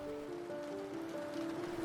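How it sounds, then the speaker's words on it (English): Soft rain falls steadily outside as a gentle, continuous hiss, with a sustained tonal hum running underneath throughout. "I gazed at the refreshing rain that fell softly outside"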